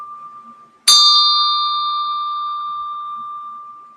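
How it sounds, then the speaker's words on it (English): A pair of Tibetan ting sha bells is struck once, giving a bright, piercing ring close up that sustains and slowly fades over several seconds in an otherwise quiet room. "Tibetan chiming bowls, ting sha bells"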